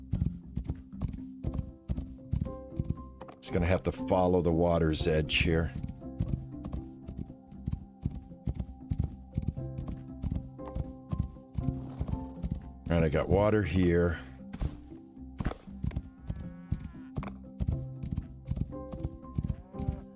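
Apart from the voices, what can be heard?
horse hooves clip-clopping while riding in video game Rising World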